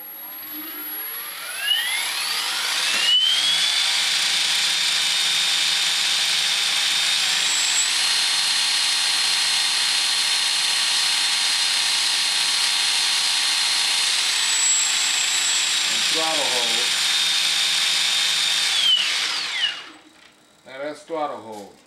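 A T-Rex 600 RC helicopter in governor mode spools up, its whine rising into a loud, steady high-pitched drone that holds for about fifteen seconds before winding down, with brief voices near the end.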